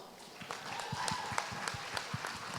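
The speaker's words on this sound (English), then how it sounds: "this big clap of hands also goes for his amazing mom" A faint, distant crowd applauds at an award ceremony, with scattered, uneven hand claps forming a soft rhythmic patter.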